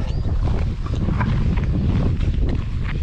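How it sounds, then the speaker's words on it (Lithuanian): Strong wind roars and buffets the microphone in a steady, dense rush throughout, heard close and loud beside a river bank while boating, with no voices. "Vėjas siautėja."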